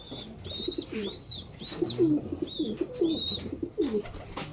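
Young pigeons coo softly and repeatedly at close range, low throaty rolling calls overlapping in an irregular rhythm, with no talking.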